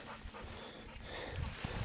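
A tired bluetick hound pants after a tussle with raccoons, a steady run of soft, rapid breaths close by, with no talking over it.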